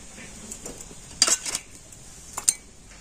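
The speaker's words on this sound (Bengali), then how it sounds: "আর এখন আমি সমস্ত উপকরণগুলো খুব ভালো করে মিশিয়ে নেব।" A spoon mixes ingredients with salt, chili powder and chopped coriander in a bowl, giving scattered close metallic clinks and scrapes in short bursts.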